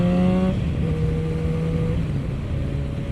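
A motorcycle engine rises in pitch as it accelerates during a group ride, with stepped harmonics climbing and shifting through gears over steady wind and road noise, close and fairly loud throughout.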